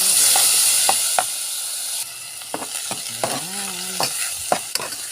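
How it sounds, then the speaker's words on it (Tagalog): Mung beans are added to sautéing vegetables in a home kitchen pan. Loud steady frying hiss and repeated utensil scrapes and knocks against the pan are heard up close, with a brief tonal squeak near the end. "Nilagay na natin yung munggo."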